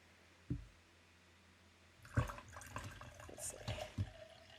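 Water poured into a glass, a few soft knocks and clinks followed by a short splashing trickle, close and quiet, with no voices.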